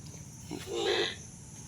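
A single short, low moo from a cow nearby, rising briefly over a quiet background.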